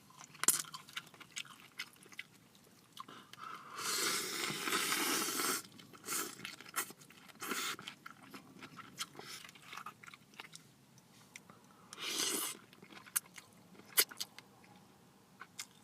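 Close, crisp chewing and crunching of a poke bowl with thinly sliced cucumbers, with bursts of louder biting and munching between quieter moist mouth sounds and small clicks, and no talking.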